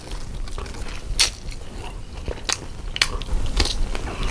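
Raw shrimp larb with sticky rice being eaten up close, with several sharp crunchy bites standing out over a low steady chewing texture and no talk.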